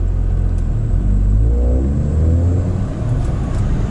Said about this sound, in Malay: saya pandu Mazda MX-5 dalam Assetto Corsa